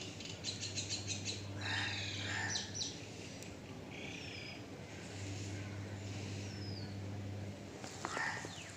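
A bird calls in an outdoor setting, short chirping phrases repeating at a moderate distance over a low steady hum and background noise, fairly faint overall.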